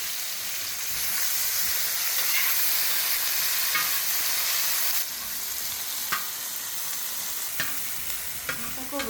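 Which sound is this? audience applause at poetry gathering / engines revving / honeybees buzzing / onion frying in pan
onion frying in pan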